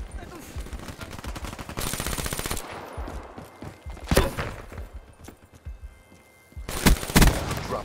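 Shotguns and other guns fire in a competitive team video game match, with sharp repeated bursts in rapid clusters and several louder booming blasts, while a commentator talks over the action.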